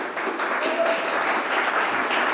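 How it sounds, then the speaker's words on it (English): An audience claps steadily in a dense, continuous wash of applause at a university event, filling the room without pause. "Keep those applause going."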